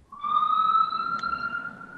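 Ambulance siren, a single sustained wailing tone that holds steady and slowly rises slightly, moderately loud and alone for about two seconds.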